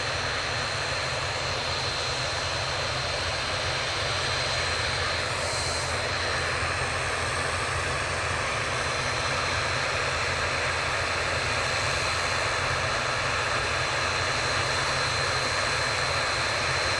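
An Etihad Boeing 787 Dreamliner departs Manchester Airport with a sustained, loud jet engine roar and thundering low rumble that holds steady across the whole stretch, no voices.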